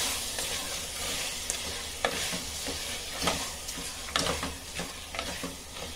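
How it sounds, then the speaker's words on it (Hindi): Meat frying in a pot for methi gosht sizzles and hisses steadily while a spoon scrapes and stirs it in irregular strokes, close up and without talk. "गोश्त को जरा 5 मिनट तक अच्छे से भूनेंगे इसके अंदर, तो टेस्टी लगता है"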